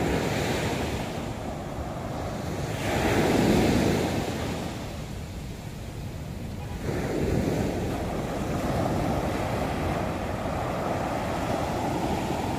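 Sea waves roll in along the Nha Trang seafront near the square, a steady broadband surf wash with gentle swells of louder breaking around the middle and later on, mixed with some wind noise, no voices.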